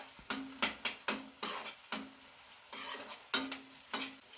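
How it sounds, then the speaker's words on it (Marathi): Green chilies sautéing in a pan, a soft sizzle broken by repeated scraping strokes of a spatula stirring them, quiet and close, with no talking. "मिरच्या जरा परतून घेऊया"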